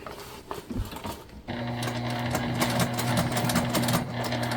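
Sewing machine stitching a seam on a leopard and gold tote bag, first a few short bursts with pauses, then a steady close whirring run.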